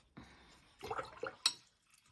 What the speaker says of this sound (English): And some more water on the brush.